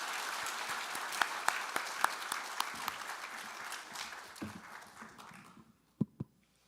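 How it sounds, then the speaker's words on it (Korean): Applause at a party assembly: many hands clap steadily with a few sharp individual claps standing out, then the clapping thins and fades, leaving a couple of last isolated claps after a near-silent gap. "여러분의 뜨거운 박수로 청해 보겠습니다"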